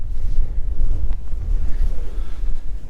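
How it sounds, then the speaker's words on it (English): Strong wind buffets the microphone in a continuous low rumble, loud and close, with no voices. "The wind's really starting to pick up again too."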